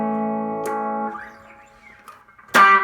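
Clean electric guitar played through a wah pedal on a pedalboard: a sustained chord rings and fades, a vocal-like swept note follows, then a fresh, bright strum lands near the end, with no voices.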